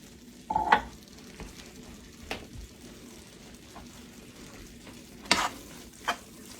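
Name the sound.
stirring salsa into warm nacho topping in a pan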